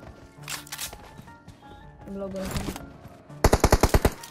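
Gunfire in the PUBG Mobile video game: scattered shots early on, then a loud rapid burst of about seven automatic rounds near the end, with players talking in between.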